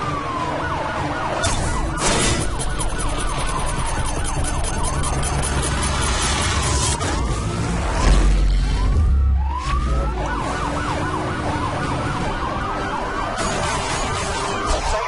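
Police sirens wail continuously through a Need for Speed Hot Pursuit car chase, rising and falling sweeps layered over roaring engines, with a brief crash and shattering impact about halfway through.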